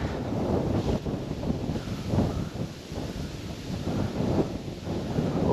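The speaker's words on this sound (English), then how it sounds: "It's a lot more windier though." Strong wind buffets the microphone outdoors on an Iowa pheasant hunt, a steady low roaring rush with gusting swells throughout and no talk.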